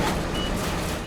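Reversing alarm beeps from heavy rescue tow trucks working on Highway 99 to lift a tractor trailer out of a river, sounding steadily and loudly over a dense wash of engine and roadside noise.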